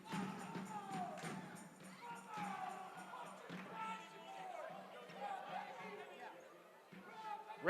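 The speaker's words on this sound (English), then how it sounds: "Crowd making some noise." Crowd noise fills a college men's basketball game between Eastern Oklahoma State and Murray State: a steady murmur of chatter and scattered shouts in an indoor arena, moderately loud throughout.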